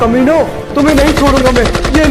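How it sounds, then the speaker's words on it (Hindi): Rapid bursts of gunfire crack in quick succession, loud and close, after someone shouts over the start. "अंदर से गोलियों की आवाज आ रही है"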